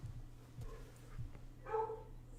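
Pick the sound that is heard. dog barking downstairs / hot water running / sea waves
dog barking downstairs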